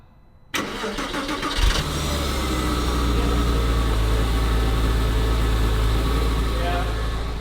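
A Porsche Boxster S 986 with its quiet stock exhaust cranks and fires on a cold start, a short surge settling into a steady, muted low idle heard up close.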